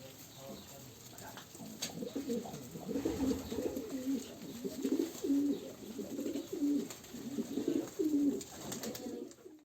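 High-flying Serbian pigeons coo in low, repeated rolling calls nearby in a coop, with occasional voices and faint background noise.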